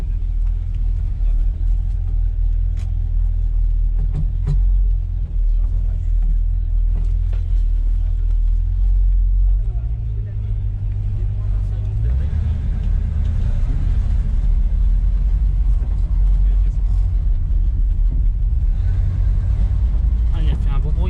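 A Ford Mustang engine idles with a low, steady rumble that swells into revs partway through, heard up close with people talking over it.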